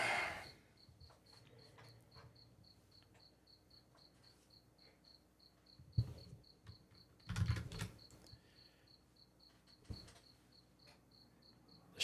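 Steady rhythmic cricket chirps pulse throughout in a quiet setting, with a few brief rustles and soft thumps nearby.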